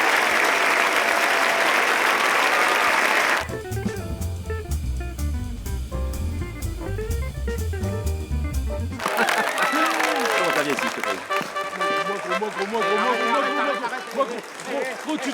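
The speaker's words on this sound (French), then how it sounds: "On l'applaudit très fort." A crowd applauds loudly in a steady burst, then the sound shifts to music and voices, with people talking over later parts.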